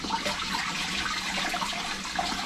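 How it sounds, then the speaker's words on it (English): Hopped beer wort, a homebrewed gooseberry bitter, gently poured through a colander balanced on two wooden spatulas into a bucket, a continuous splashing trickle of liquid, close and steady, no talk. "using a colander balanced with 2 wooden spatulas over the bucket, I'm going to gently pour my hops"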